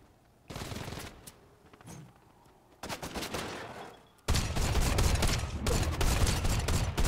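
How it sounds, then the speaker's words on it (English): Shotgun fire in the Fortnite video game comes as loud, dense bursts of blasts in three clusters, the last one heaviest and sustained, with no talk over it. "I'm shooting from a shotgun from this distance"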